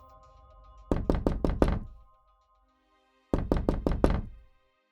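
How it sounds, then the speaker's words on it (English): Two bursts of strong knocking on the door of a flat, each a quick run of about five loud, close raps, separated by a couple of seconds of near silence. "Suddenly, there was strong knocking on the door of the flat."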